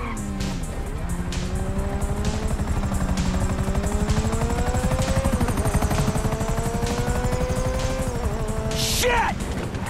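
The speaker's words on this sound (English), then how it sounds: "Chopper!" A helicopter in the video game Grand Theft Auto 5 drones loudly and continuously for ten seconds, its rotor pitch slowly rising, with vehicle engine noise and a brief screech near the end.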